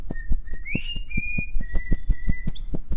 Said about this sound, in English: Bluebird flapped her wings and began to whistle Happy Birthday as loud as her little lungs would permit